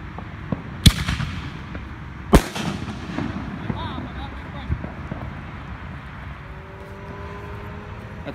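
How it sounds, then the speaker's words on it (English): Fireworks being set off outdoors at a small pre-July 4th celebration: two sharp, loud bangs about a second and a half apart, then fainter crackles and pops, with a low rumble and background voices throughout. "Too distracted from shooting my fireworks"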